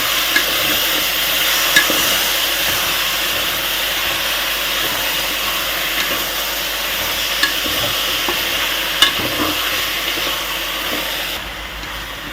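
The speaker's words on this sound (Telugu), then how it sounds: "ఇలా వేసుకున్న తర్వాత ఒకసారి కలుపుకుందాం." Chicken curry being stirred in a pan, a steady sizzling frying hiss with occasional scraping clinks of the spoon, continuous and fairly loud throughout with no talking.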